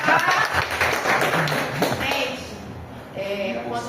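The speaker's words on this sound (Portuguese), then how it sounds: "Salva de palmas" A short round of clapping from a small group breaks out at a celebration, brisk and close for a couple of seconds, then fades as voices take over.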